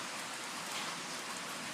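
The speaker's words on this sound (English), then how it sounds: "There's a huge thunder shower that just rolled in." Steady rain from a sudden heavy thunder shower falls at a constant, even hiss, with no break or change in level and no voices.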